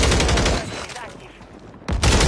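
Rapid bursts of gunfire in Call of Duty Warzone Resurgence, loud and dense, thinning out briefly in the middle before a fresh volley hits hard at the end.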